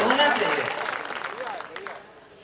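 Audience applause at a Hindi poetry recital (kavi sammelan) in Shahjahanpur, a short burst of clapping that starts strong and tapers off, with voices faintly mixed in.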